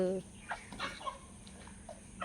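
Chickens cluck in short, scattered calls, some nearby and some farther off, over a quiet farmyard background.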